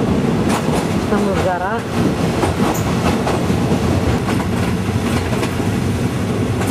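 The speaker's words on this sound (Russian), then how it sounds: "помедленнее поезд пошел" A train in Thailand, slowing after leaving a tunnel, rolls along the rails with a steady rumble and rhythmic clatter, a brief squeal of wheels, while a person speaks briefly over it.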